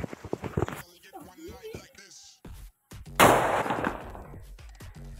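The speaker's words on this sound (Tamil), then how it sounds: "நாட்டு மிளகா பட்டாஸ் எப்படி இருக்குன்னு" Chili firecracker going off outdoors: a single loud sharp crack with a hissing burst, coming after a few seconds of talking and handling noise.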